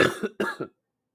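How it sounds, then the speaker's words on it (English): Two quick, harsh coughs in close succession, near and loud, followed by silence. "This cough is just not going away."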